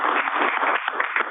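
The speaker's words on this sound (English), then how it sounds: "Can we give him a round of applause?" Brief applause rises from the audience at a public board meeting, a short burst of clapping heard over a narrow, phone-like line with no speech.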